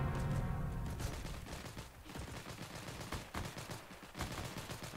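Heroes and Generals WW2 battlefield gunfire rattles in dense, overlapping bursts of rifle and machine-gun shots, fairly distant and faint, continuing steadily throughout without speech.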